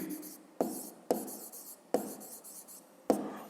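Pen or pencil scratching on paper while working a school maths exercise, soft and close, in short bursts separated by brief pauses and sharp taps as strokes begin.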